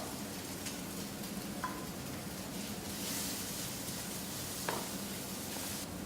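Diced carrots hit hot oil in a pan just after egg white has been fried, giving a steady broadband sizzle with soft stirring scrapes and a couple of brief clinks, close and continuous with no talking.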